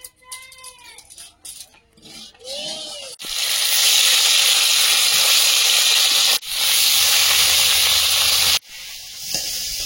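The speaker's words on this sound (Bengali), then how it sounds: "কড়াইতে তেল দিয়ে দেবো, পনিরটা একটু ভেজে নেব।" Paneer pieces are dropped into hot, lightly salted oil in a wok and fry with a loud, steady sizzling hiss that continues for several seconds. Brief clatter and faint sounds come before it, and the hiss drops off briefly twice.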